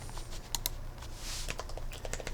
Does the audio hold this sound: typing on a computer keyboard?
yes